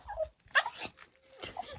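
A dog whimpers and yips in short, high, nasal bursts close to the microphone, with brief pauses between cries and a longer thin whine in the middle.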